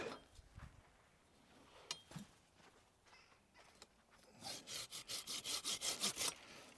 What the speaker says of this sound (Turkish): Testereyle alsak daha iyi olacak.